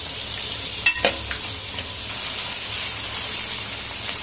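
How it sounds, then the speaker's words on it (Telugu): Masala ingredients with ground black pepper sizzle steadily in a pan for smoky chicken, a constant close hiss of frying broken by a couple of brief stirring scrapes. "కొంచెం నార్మల్ గా ఫ్రై చేసుకోవాలి"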